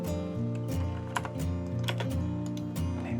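Quick bursts of keystrokes clatter on a computer keyboard as AutoCAD drawing commands are entered, a close, crisp run of taps with a few louder spacebar hits.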